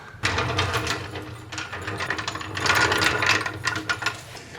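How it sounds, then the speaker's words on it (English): Jack raising a Corvette C4 under its oil pan, a close, steady mechanical ratcheting and clicking that keeps going for several seconds and grows slightly louder midway. "So we're jacking it up right on the oil pan."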